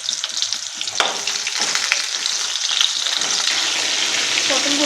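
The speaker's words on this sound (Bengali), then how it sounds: "পটলগুলোকে ভালো উল্টে পাল্টে লাল লাল করে ভাজা করে দিতে হবে" Whole pointed gourds (potol) frying in hot oil for a Bengali moong-potol dish, a steady close sizzle with crackling pops that grows slightly denser toward the end, no talk.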